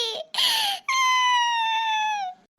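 A cartoon child cries in a loud, close, wailing sob: a short whimper and a gasping catch, then one long, drawn-out bawl.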